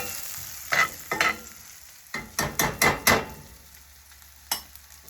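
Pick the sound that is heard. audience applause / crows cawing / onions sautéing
onions sautéing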